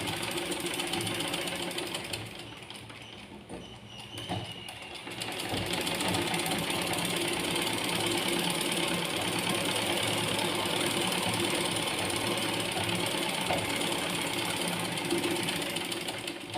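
A sewing machine stitches blind tucks in fabric, running with a steady, fast mechanical chatter that dips briefly early on and then resumes continuously and close up, with no talking.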